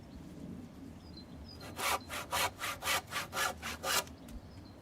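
Hand saw cutting through a wooden doorpost, about nine steady back-and-forth strokes in a close, even rhythm, loud and alone over faint room noise.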